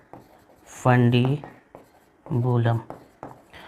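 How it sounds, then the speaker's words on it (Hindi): A marker or chalk squeaks and scratches in short strokes across a teaching board, close and distinct, with someone speaking between and over the writing. "मैं नीचे लिखता हूँ इनफंडिबुलम"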